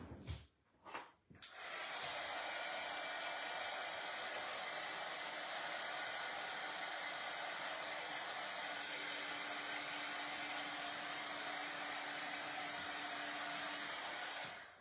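A hair dryer blows steadily on painted patriotic decor, a loud continuous whoosh that starts after a couple of brief bursts and runs almost unbroken to the end.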